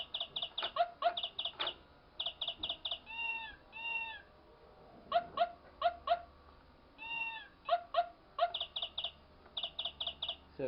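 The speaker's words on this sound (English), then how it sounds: "So it just makes the animal noises when you spin it." A 1990s VTech Little Smart Talk and Lights toy radio plays a rapid string of electronic animal noises as its rotary dial is spun: chirpy bird tweets and synthetic meows in quick bursts, close and steady, with no talking.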